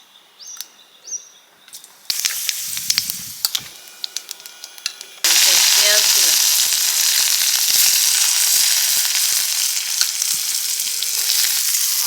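Okra and potato sautéing in a pan for a home-style chorchori, sizzling steadily and loud from about five seconds after a quieter start of scattered clatter, close up and continuous.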